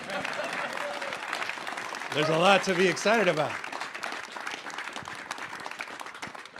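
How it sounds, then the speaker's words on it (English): Crowd applause at a Tesla event announcing its global engineering headquarters in California, a steady background of clapping running under a voice as he speaks. "Applaud, everybody."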